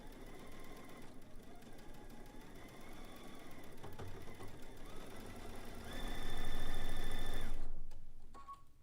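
Sewing machine stitching a zigzag quilt seam, a steady low mechanical hum with faint rhythmic ticking that swells louder for a couple of seconds near the end before cutting off.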